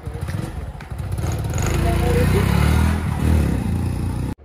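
A motorbike engine runs steadily near at hand, its loud rumble rising slightly as the bike moves off, then cutting out abruptly at the end; no clear speech over it.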